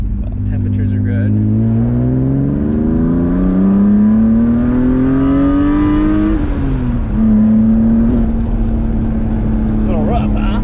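A BMW E36 M3 engine, freshly overhauled at the front end, revs up in a loud, close rising drone, holds, dips briefly and settles to a steady higher whine, with some cabin noise at the start.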